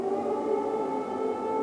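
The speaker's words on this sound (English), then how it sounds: "Today, sirens rang out again in Kyiv to warn of an airstrike." A wailing air raid siren in Kyiv warning of an airstrike holds a steady, sustained tone, heard alone at moderate distance.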